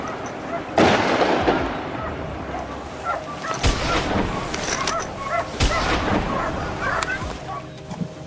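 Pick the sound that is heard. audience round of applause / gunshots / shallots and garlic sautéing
gunshots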